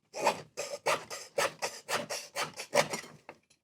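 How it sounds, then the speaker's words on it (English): A hand saw in a miter box cuts a notch in a piece of wood for a small thatched-roof build, about a dozen close, rhythmic rasping strokes that slow and stop near the end. "Just make a notch, and then I'll just use my miter box to cut that out."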